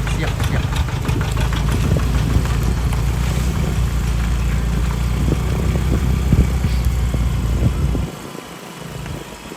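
A tractor engine idles with a steady, rough low rumble for about eight seconds, then the sound drops noticeably quieter near the end.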